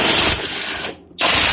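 Impact wrench spinning a nut tight with a 3/4 inch socket on a Polaris Sportsman ATV front lift kit strut: loud continuous buzzing whir, a brief pause near the end, then a second loud burst.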